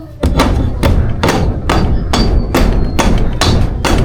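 A hammer pounds ceiling boards during a bedroom ceiling installation, about eight loud, evenly spaced close blows in steady rhythm with no talk.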